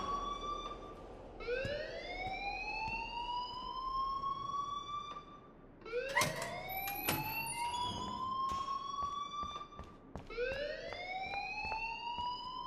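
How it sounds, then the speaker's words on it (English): A school fire alarm in the video game Life Is Strange wails in loud, rising sweeps that repeat three times, each climbing in pitch before cutting off, with sharp clanks between cycles and no voices. "please turn off that alarm since that's your job"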